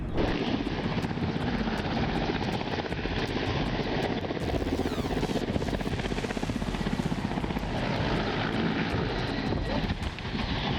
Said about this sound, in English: This video captures a Russian helicopter accident